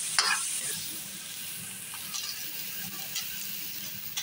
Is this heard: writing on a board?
no